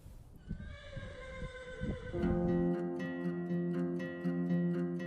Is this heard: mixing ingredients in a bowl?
no